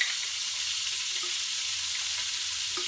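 Chicken fingers fry in hot bacon fat, a steady, dense sizzle and crackle that carries on without a break at close range.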